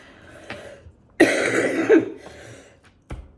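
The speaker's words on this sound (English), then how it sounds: "It's a death cough." A couple of rough, harsh coughs close by, bursting out in quick succession, followed by a short quieter hack and brief pauses between.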